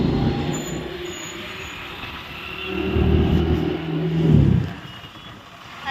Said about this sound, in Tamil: எங்க அண்ணன் வந்து வண்டி ஓட்டிட்டு இருக்காங்க